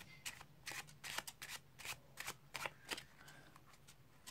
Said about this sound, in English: by giving it a shuffle